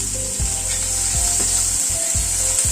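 Whole spices with crushed garlic cloves and green chillies frying in oil, a loud steady sizzle close up, with a few scraping stirs of a spoon in the pan.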